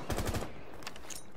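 Rapid bursts of automatic gunfire in Rainbow Six Siege, a quick loud volley of close shots in the first half second, then a couple of fainter shots trailing off.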